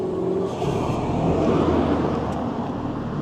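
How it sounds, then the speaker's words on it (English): A car with turbo boost accelerates past on a steep hill road, heard from an e-bike as a loud, broad engine and road roar that swells through the middle and holds steady to the end, with no talk. "Somebody got a turbo boost on their car."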